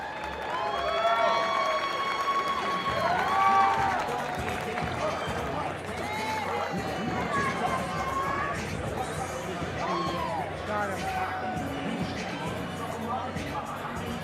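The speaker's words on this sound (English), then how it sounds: "Round of applause." A fight-night crowd at a Key West boxing event on Duval Street claps and cheers, with the noise swelling early and then settling into steady hubbub, while people talk loudly throughout.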